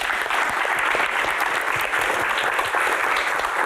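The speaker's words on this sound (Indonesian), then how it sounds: "Tepuk tangan." An audience at a Q&A event applauds with dense, steady clapping that fills the whole stretch, with no one talking over it.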